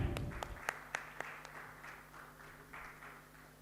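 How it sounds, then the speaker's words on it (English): Audience at a real estate awards conclave applauds, a few sharp distinct claps at first blending into a softer, fading wash of clapping from a moderately distant crowd. "Let's give our lady a big round of applause"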